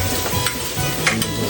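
Garlic sautéing in a pan for a tomato sauce served with fried milkfish: a brief, steady sizzle with a couple of faint clinks from the pan.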